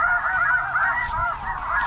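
A flock of snow geese on the East Coast honks continuously, many overlapping calls at moderate distance, with no voices.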